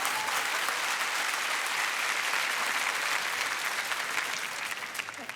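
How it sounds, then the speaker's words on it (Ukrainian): Sustained applause from a large audience, steady and dense throughout, tapering slightly at the end. "Я так хочу, щоб ви так поаплодували цій жінці неймовірній."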